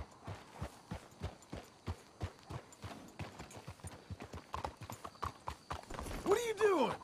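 Horses walking in the Red Dead Redemption 2 video game, hooves giving a steady, rapid clip-clop under quiet background sound, ending with a loud neigh.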